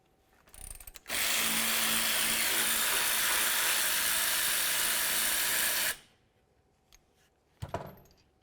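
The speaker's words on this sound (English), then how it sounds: "To remove these bolts, let's go ahead and use a 14mm socket." A ratchet drives a 14mm socket on the caliper bolts of a 2002-2006 Honda CR-V during wheel hub and bearing work. It makes a loud, steady mechanical whir for about five seconds, with faint clicks before and after.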